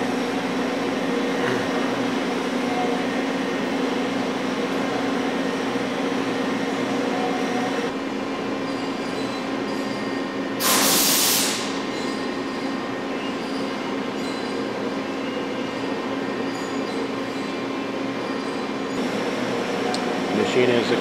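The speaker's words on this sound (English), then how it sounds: "This is a Chicago model HSB-1014 hydraulic leaf brake." A Dreis & Krump HSB-1014 hydraulic leaf brake with 14 gauge by 10 foot forming capacity and a power back gauge runs with a loud, steady machine drone throughout, broken once midway by a brief hissing burst.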